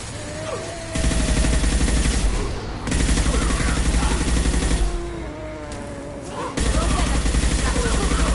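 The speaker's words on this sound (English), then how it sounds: "Firing a high-impact shot." Rapid automatic gunfire in the video game Mass Effect 2, loud sustained bursts separated by brief pauses, with in-game voices and other battle sounds mixed in underneath.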